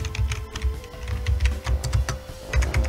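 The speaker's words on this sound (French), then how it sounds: "J'essaye toutes les touches de mon clavier." Rapid, steady typing on a computer keyboard with many keys pressed in turn, close and fairly loud, with no voices.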